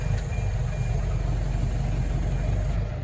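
A tractor working with a Väderstad Rapid seed drill idles steadily with a low, constant engine rumble, close and unchanging throughout, with no talking over it.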